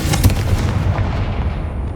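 Confringo blasting spell cast in Hogwarts Legacy: a single loud, close explosive boom that hits at the start and rumbles away over two seconds.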